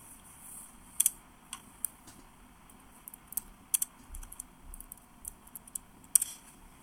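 Typing on a computer keyboard, sparse crisp key clicks and short bursts of keystrokes at an uneven pace, close but quiet, over a faint low background hum.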